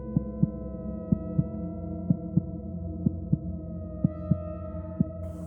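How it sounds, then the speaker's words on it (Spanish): A heartbeat sound effect thumps in paired beats at a steady, slow pace over a low, constant hum, with no other sounds around it. "hasta el latido de su corazón parecía demasiado fuerte"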